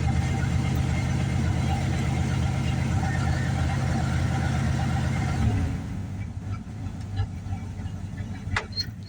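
A 1986 Dodge D-150 pickup with a chokeless carburetor idles loudly and steadily right after a cold start, a low rumbling drone that suddenly drops off into quieter ticking and faint background noise.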